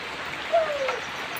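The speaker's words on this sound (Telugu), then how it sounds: "ఈ పట్టా పై నుంచి ఒక వర్షం పడుతుంది అన్నమాట" Rain falling on a tarpaulin roof over a shed and leaking through: a continuous soft patter and hiss, steady and moderately close, with no voices.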